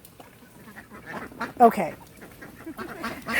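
Farm ducks quack in short, scattered bursts, fairly close, mixed with a voice that speaks briefly over them.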